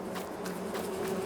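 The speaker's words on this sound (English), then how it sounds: "You can hear the bees buzzing about" Honeybees buzz around basic beehives near a canola crop, a steady, faint insect drone with brief swells as individual bees pass close, with no talking.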